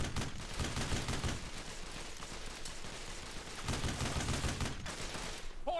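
Sustained covering gunfire in the PS2 World War II shooter Brothers in Arms, dense overlapping rifle and machine-gun bursts rattling continuously and loudly, with a brief faint shout near the end.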